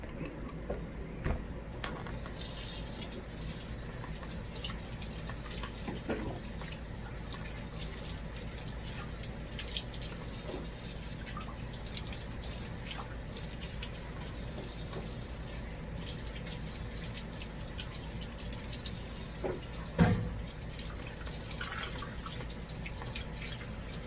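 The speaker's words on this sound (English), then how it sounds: "Gonna wash the veggies one more time." Vegetables being washed under a running kitchen tap, a steady close stream of water with occasional drips and splashes, continuous throughout and with no one talking.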